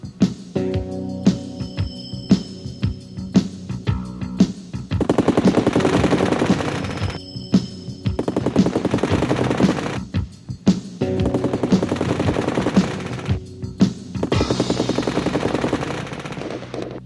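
An F-86 Sabre's six .50 machine guns fire in repeated long, loud, rapid bursts separated by short pauses, with a harsh rattling texture throughout.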